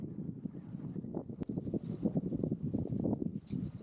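Wind buffets the microphone aboard a sailboat heading toward Weymouth Harbour, a gusty, rumbling low roar that rises and falls unevenly, with a sharp click partway through.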